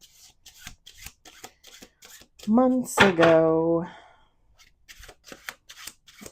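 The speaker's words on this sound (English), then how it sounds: "we're just going to shuffle, pull some cards, and see what comes out" A deck of cards being shuffled in a fast riffle of crisp flutters, with a voice talking briefly before and after.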